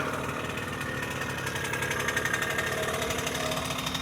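A 1974 Honda MR50 motorcycle engine with a freshly adjusted carburetor runs steadily nearby, a continuous close buzzing idle with a fast even pulse and no talk over it.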